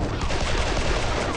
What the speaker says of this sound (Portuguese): ela pulou e deu um tiro